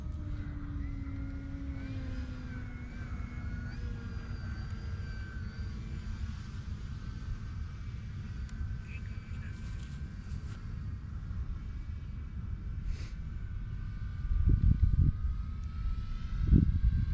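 E-Flite Timber X RC airplane flying overhead, a faint high whining propeller and motor tone that drifts up and down in pitch over a steady outdoor rumble, with a louder thumping burst near the end.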